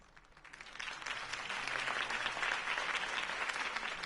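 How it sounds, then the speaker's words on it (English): Loud applause from a large crowd just after a political campaign speech for Harvey Dent, swelling over the first second into dense, sustained clapping that holds steady with no voices. "If only Mr. Wayne, my campaign's largest backer, could have heard that applause"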